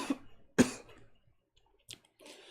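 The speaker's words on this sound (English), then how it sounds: "I had to cough" Two short, sharp coughs come close together near the mic, followed after a quiet pause by a faint click and soft breathy noise, with no speech.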